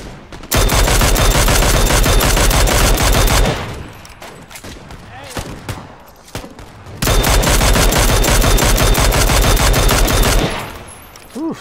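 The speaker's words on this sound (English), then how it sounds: "Why are you shooting me like a somebody?" Gunfire in the video game PUBG comes as long, loud bursts of rapid automatic fire, broken by a quieter gap with scattered shots before another sustained barrage.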